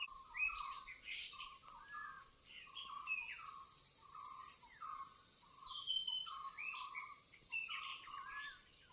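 Small birds chirp and trill repeatedly outdoors on a quiet path near Wai, Maharashtra, fairly faint and distant, with a steady insect hum in the background.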